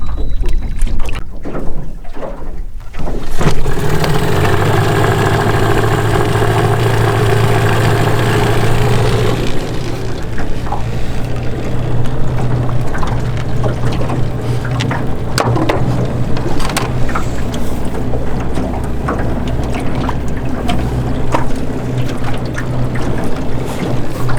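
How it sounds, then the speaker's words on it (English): A jon boat engine drones steadily across open water on Raystown Lake, loud and close, with the motor's pitch shifting partway through as it picks up speed. "just run the boat a little bit just to see how it moves across the water"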